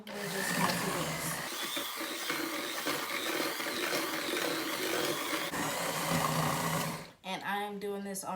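An electric mixer on a low speed whirs steadily through pumpkin bread batter in a home kitchen, a continuous close motor drone that cuts off near the end as a person starts talking.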